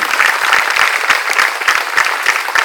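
Audience at a school annual day celebration clapping in thanks to mentors, loud and close, with rhythmic bursts of hands pulsing throughout.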